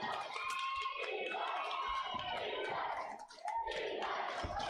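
Home crowd at a Wabaunsee girls basketball sub-state championship game roars steadily and loudly throughout, a dense wash of cheering with a brief dip near the end before surging back.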